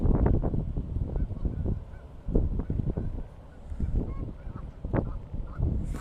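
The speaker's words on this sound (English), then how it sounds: "Who would have thought the geese hate Officer Krupke so much?" Geese honk loudly and repeatedly nearby in overlapping bursts, a noisy flock calling back and forth outdoors on a hot day in Rockford, Illinois.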